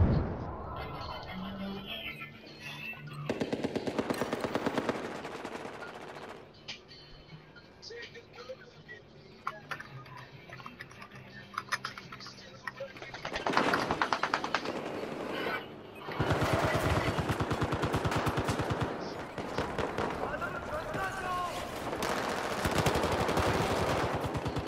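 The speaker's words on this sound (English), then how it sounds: "East of where you're at, there's a hostile machine gunner." Machine gun fire in a first-person shooter video game, with dense bursts of rapid automatic shots that come and go in loud stretches amid game ambience, and someone talking over parts of it.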